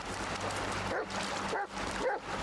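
A dog barks outdoors on a cold night, a few short yips and woofs at middling distance over steady background noise.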